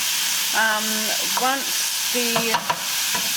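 Lean mince meat for a low-carb lasagne fries in a pan with a close, continuous sizzle, while brief voiced tones rise over it a few times.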